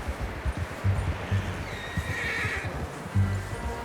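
A horse whinnies and snorts nearby in the video game Red Dead Redemption 2 while hooves clip-clop unevenly in the background.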